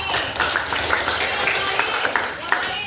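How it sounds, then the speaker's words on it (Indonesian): Classroom students clapping for a classmate during a coding and AI lesson, a dense steady patter of hands with scattered sharper claps throughout, mixed with faint background voices. "Oke, luar biasa, tepuk tangan untuk Ani."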